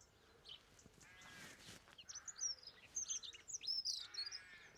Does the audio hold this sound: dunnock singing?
yes